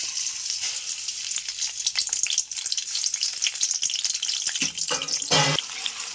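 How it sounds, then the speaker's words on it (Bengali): Onion hits hot oil in a wok and fries with a loud, continuous hiss, a clatter of stirring near the end as the sizzle swells. "কড়াইয়ে তেলটা ঢেলে দিয়েছি এবার দিয়ে দিব পেঁয়াজ"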